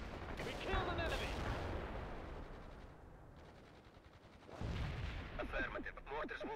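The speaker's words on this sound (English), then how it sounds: "Mortars will fire at the provided coordinates." Mortar and gunfire in World in Conflict, the Soviet assault battle: sharp bursts of firing and blasts cluster early, ease off, then return loud, with shouted radio voices over the combat.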